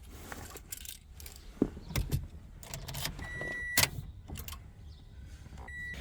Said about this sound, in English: Just plug it in, and then I'm going to turn the car on